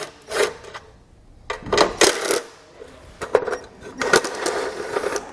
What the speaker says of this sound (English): we can remove the screws here on the back